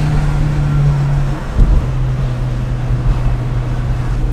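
A 2010 Peugeot 207 SW Escapade car engine drones steadily from inside the cabin. After a brief thump and dip, the engine hum carries on as a loud, continuous rumble, with no speech.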